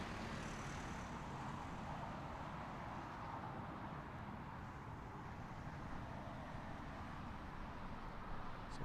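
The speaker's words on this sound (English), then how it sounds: "Another nice, noisy 777 here at Heathrow" A Boeing 777 airliner at Heathrow Airport, a broad, steady roar of jet engines that fills the whole clip at a moderate distance, no talk.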